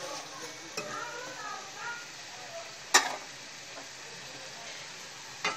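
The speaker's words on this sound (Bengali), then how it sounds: "তো এইভাবে আমি সবগুলো পাকুড়ে ভেজে নিব" Cabbage pakoras frying in oil in a pan: a soft, steady sizzle at moderate distance, punctuated by a few sharp utensil clinks against the pan.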